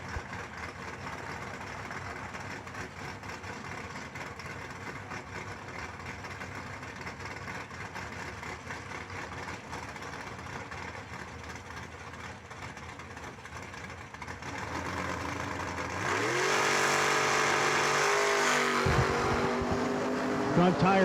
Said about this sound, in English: Klein rolling up in the Malibu wagon.